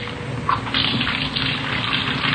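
Running water from a kitchen tap as dishes are washed, a steady close gushing stream with light clinks and splashes, no voices.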